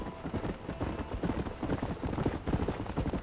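A horse gallops in the video game Red Dead Redemption, with rapid, continuous hoofbeats close and moderately loud throughout the short stretch, and no talk heard.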